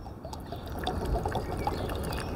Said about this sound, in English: So what we're gonna do is just pour a little bit into here.